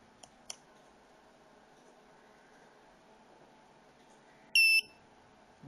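A short, bright electronic beep from a rotary table controller sounds once near the end, clear above a quiet room hum with a couple of faint clicks earlier.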